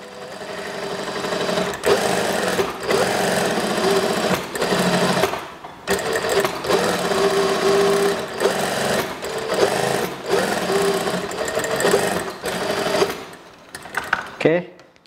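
Sewing machine stitching a seam on a school skirt, running in loud, close bursts of rapid mechanical chatter with short pauses between runs, under a faint voice.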